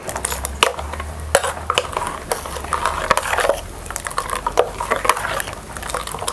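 Spoon scraping and clinking against a bowl while coconut chutney is mixed with sugar and salt, a run of sharp irregular taps and scrapes, close and fairly loud, with no talking.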